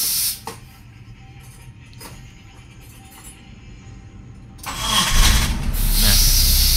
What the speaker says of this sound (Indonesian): Kita merasakan suara mesin seperti ini.